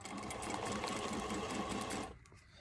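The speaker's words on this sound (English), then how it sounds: "I'm going to sew it from right here and just kind of follow along" A sewing machine stitching along the edge of a plastic mask runs in a fast, buzzing rattle for about two seconds, close and loud, then stops abruptly into quiet.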